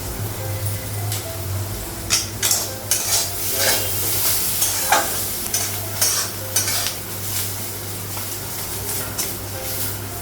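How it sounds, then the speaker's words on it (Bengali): Bitter gourd frying in a pan, a steady sizzle broken by repeated scraping stir strokes of a spatula and occasional clinks of utensils, close and fairly loud, with no talk. "করলা ভাজাটা হয়ে গেছে,"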